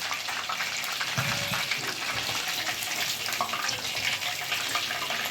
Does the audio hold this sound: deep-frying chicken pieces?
yes